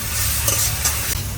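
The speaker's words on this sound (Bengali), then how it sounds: "এখন এই মশলাটা ভালো করে কষাই নিয়ে" Mustard paste masala with turmeric frying in a pan for a duck curry, a loud close sizzle with a couple of quick scraping stir strokes over a low cooking rumble.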